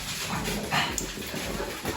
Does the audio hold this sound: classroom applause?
no